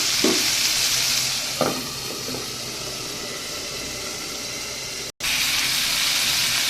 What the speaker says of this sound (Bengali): যতক্ষণ না সবজি মজে যায় ততক্ষণ ভাজবো।